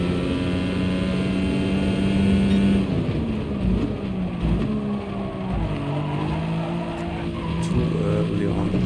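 A race car in the GT Sport video game drifts through a corner, its engine droning loud and steady under a long, wavering tire squeal. A voice speaks briefly over it.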